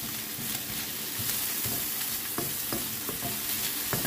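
Mung beans sauté in a frying pan with a steady, loud sizzle, broken by occasional scrapes and knocks of a utensil stirring them up close.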